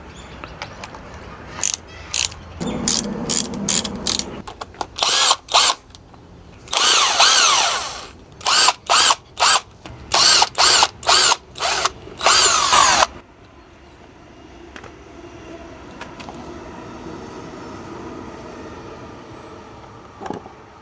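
On a 2007 BMW R 1200 R Hexhead, a power tool zips out the T40 valve cover bolts in a series of loud, short whirring bursts with ratcheting clicks, separated by pauses. A quieter hum of handling noise follows.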